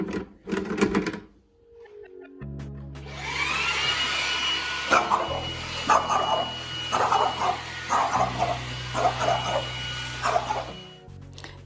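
Dog barking at a running household vacuum cleaner indoors, a steady motor drone with a series of loud, repeated barks over it, after a brief noisy start.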